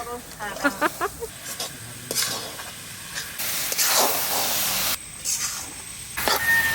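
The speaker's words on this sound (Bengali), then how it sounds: "নারকেলের জল। বাবা রে বাবা, শব্দ কি!" Coconut water hits a hot pan while Bengali coconut sweets are being made, bursting into loud hissing, steamy surges that rise and cut off in waves, with someone speaking over the start.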